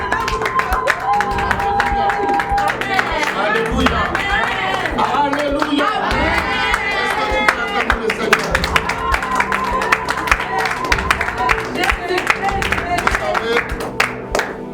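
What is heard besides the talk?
congregation applauding and clapping to welcome the prophet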